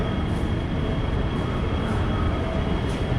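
Train at a Hong Kong high-speed rail station, a loud, continuous rumbling roar of rolling wheels and machinery with a steady high whine, heard alone throughout.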